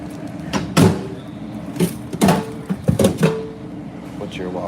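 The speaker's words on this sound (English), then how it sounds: "We have to unlock the door." Door being unlocked and opened, with several knocks, clunks and latch rattles spread over a few seconds, close by, while people talk.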